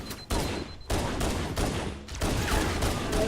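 Rapid gunfire in a Halo Anniversary sci-fi shooter battle, with several loud sharp shots in quick succession separated by brief gaps, over a constant din of combat noise.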